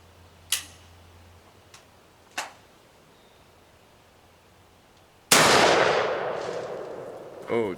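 Shotgun blasts fired outdoors while testing a recoil-reducing setup: two sharp reports early on, then a much louder close blast at about five seconds with a long rolling decay, followed by another hit near the end.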